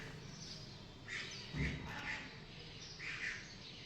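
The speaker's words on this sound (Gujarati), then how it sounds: "આમ જો કાબર આવી ગયો" A myna bird gives a few short, scattered calls at a moderate distance over a steady background hiss, with a louder call near the middle.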